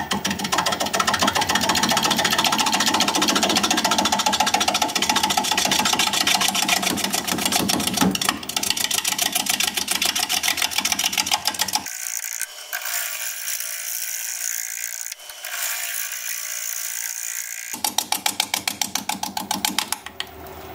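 A wood lathe turns a natural holly crotch at 430 RPM under a 5/8 inch bowl gouge, giving a dense, loud, continuous mechanical whir and chatter. It thins out partway through, then returns to full strength near the end.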